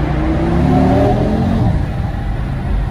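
An Audi RS3 five-cylinder engine revs loudly and steadily, with a deep throaty roar rising and holding close by, no voices over it.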